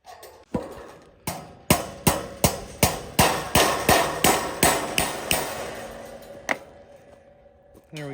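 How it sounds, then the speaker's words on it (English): A nail hammered into wood while fencing for pigs, about a dozen sharp, ringing hammer blows in a fast, steady rhythm, close and loud, then a pause and one final strike. "We got it nailed down there."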